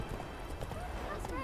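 Galloping horse hooves in the Witcher 3 video game, a quick rhythmic clatter mixed under a steady game soundscape, faint and brief, with a voice speaking over it.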